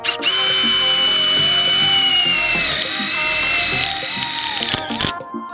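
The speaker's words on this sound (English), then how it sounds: "Just get the screw and it just drills itself." A power drill drives a self-drilling roofing screw into sheet metal on a school bus conversion, a loud steady motor whine running several seconds with grinding and rattling, then stopping.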